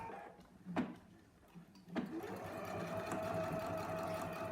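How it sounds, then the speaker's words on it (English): Sewing machine stitching a quarter-inch seam in fabric; after a couple of soft knocks it settles into a steady, close, continuous mechanical whir with no talking. "So I'm going to go ahead and sew that with a 1/4 inch."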